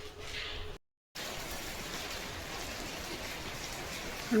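Steady May rain pours down over green farm fields in a continuous hiss, briefly cut to silence before resuming at the same even intensity.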